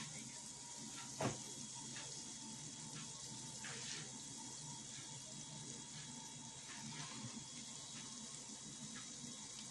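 Buñuelos fry in hot oil, giving a continuous even sizzling hiss with a single soft knock early on and faint crackles scattered throughout.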